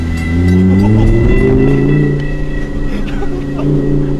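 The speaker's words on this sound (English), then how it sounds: "I'm at least gonna rev this car." A supercar's engine runs loud and close, holding a steady rumbling idle with a slight rise in pitch, a continuous drone with no sharp revs.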